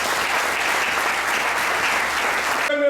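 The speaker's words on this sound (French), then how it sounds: "Acclamez pour lui" A live audience at a political party training session in DR Congo bursts into sustained, dense applause for a doctor being introduced, steady and loud for nearly three seconds before cutting off abruptly.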